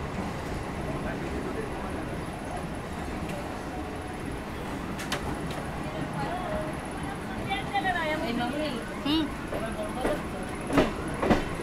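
Dumdum to Majerhat local train in 2024 rolling along with a steady rumble and occasional clatter, while passengers chatter nearby and a few sharper knocks stand out near the end.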